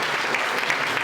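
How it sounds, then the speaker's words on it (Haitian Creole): Church congregation applauding, a brief dense burst of steady clapping from many hands. "Applaudissez l'esprit pendant la parole"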